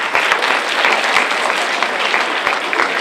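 Students and audience at Samuel S Gaines Academy giving themselves a round of applause, a loud, thick, continuous clapping filling the room without pause for the whole stretch.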